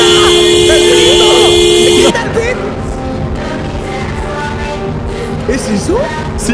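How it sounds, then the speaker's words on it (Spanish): Sustained car horn blaring in the Roblox video game, loud and close for about two seconds and then cutting off abruptly, followed by excited talking over game noise. "¡Pero apaga la bocina! ¡El pito!"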